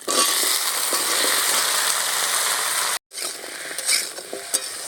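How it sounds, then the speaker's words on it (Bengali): Cut pieces of homegrown desi taro go into a hot, well-cooked spice paste and are stirred, giving a loud continuous sizzle with scraping, a brief break, then quieter frying and occasional stirring clicks. "এবারে আমি কেটে রাখা কচুগুলো দিয়ে দেবো বাড়ির দেশি গাঁটি কচু"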